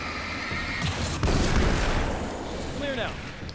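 A couple of sharp, booming gunshots in the video game Alan Wake's American Nightmare, with echoing tails, ring out close by, followed by a brief whistling sound effect.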